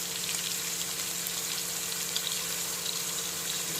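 Mutton curry with curry leaves frying in a pan, a steady soft sizzle and bubbling crackle running evenly throughout without talk.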